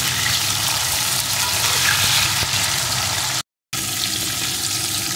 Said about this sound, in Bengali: টমেটোটাও আলুর সাথে একটু ভেজে নেব।